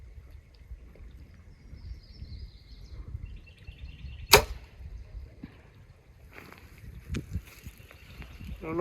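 Arrow loosed from a bow at a long-distance 3D archery target course outdoors in Beavers Bend, Oklahoma, a single sharp snap and whoosh midway through, with quiet wind, faint rustling and distant birds around it.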